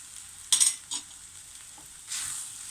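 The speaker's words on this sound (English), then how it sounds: "Then add 1 teaspoon garlic paste. Saute it until the raw smell disappears." Garlic paste sautéing in a pan for shakshuka, with a steady soft sizzle, a short louder burst of scraping and stirring, a few faint utensil taps, and a swell of frying noise near the end.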